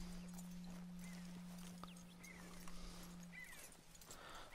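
A horse's hooves clip-clop at a steady walking pace in Red Dead Redemption 2, close and clear over a faint steady hum.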